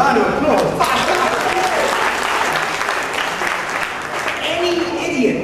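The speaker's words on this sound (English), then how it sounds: "let's give him a round of applause" Audience applause fills the room for a man who has just ridden five hours in the saddle, a steady, dense wash of clapping that holds loud and even from start to finish.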